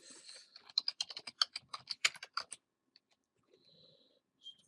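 Typing on a computer keyboard while tracing a CAD floor plan in a Rhino plugin: a quick run of close key clicks for about two and a half seconds, then near silence with a faint tone.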